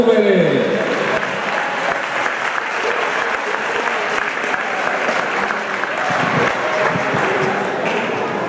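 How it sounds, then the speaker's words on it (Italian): Sustained applause from a crowd at the final of the Memorial Sartori 2013 sports event, as the mayor of Roverè della Luna presents an award to Unione Sportiva La Rovere; steady dense clapping throughout with some voices mixed in. "un bel applauso alla Rovere"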